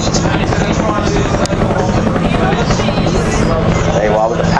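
A Huey helicopter at the Blackpool Air Show runs with power on, its loud, steady rotor and turbine roar filling the whole stretch, close and continuous with a voice talking over it.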